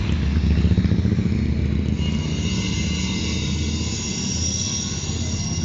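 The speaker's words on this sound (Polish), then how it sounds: "Motorek jedzie świetnie." A small motor runs steadily during market square renovation work, a continuous loud engine drone with a throbbing low rumble that holds for the whole stretch.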